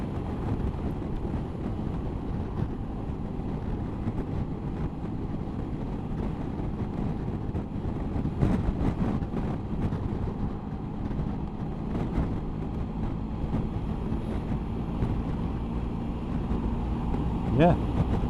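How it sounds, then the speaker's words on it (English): A Honda ST1100 motorcycle cruising at about 70, with a continuous engine drone and heavy rushing wind noise across the microphone, steady and close throughout. "With me cruising along at 70, it's keeping the wind off me."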